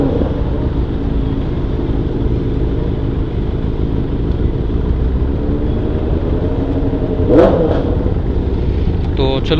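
Several motorcycles, among them a Benelli TRK502X, run together after starting up, making a loud, steady engine rumble with a brief sharp rev near the end.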